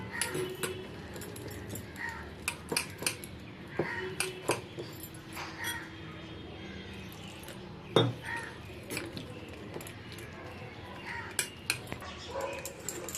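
Batter being beaten briskly in a bowl for crunchy bitter gourd leaf fritters, a steady scraping whisk under a run of sharp clinks and taps against the dish, with a dog barking at times nearby.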